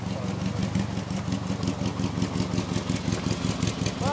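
A Subaru car engine with about 400,000 kilometres on it idles steadily and close by, with a rough, throbbing note and slight rises in revs. Voices talk over it.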